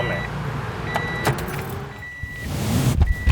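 An Acura Integra being started with the key inside the cabin, a brief cranking burst settling into a low engine rumble, with faint chimes and key jangle nearby.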